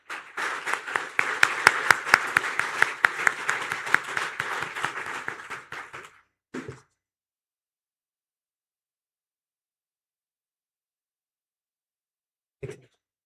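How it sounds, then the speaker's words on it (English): An audience at a formal lecture event applauds with dense, sharp clapping for about six seconds, then a short final burst, followed by silence and one isolated clap near the end. "Let's give huge round of applause"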